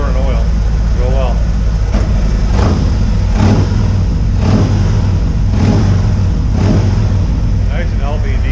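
Harley-Davidson Street Glide M8 with a Vance and Hines exhaust riding on the highway, a deep loud engine note with repeated rises and falls in revs under constant wind roar, with someone talking over it.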